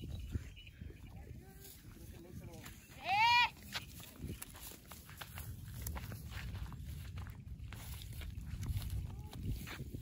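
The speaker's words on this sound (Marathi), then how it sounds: "शेळ्या डोंगरावरती चारायला आलोय" Osmanabadi goats grazing on a hillside, with one brief bleat near the middle over steady outdoor rustle, footsteps and wind noise.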